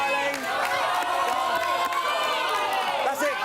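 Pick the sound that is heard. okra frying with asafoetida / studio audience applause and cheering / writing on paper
studio audience applause and cheering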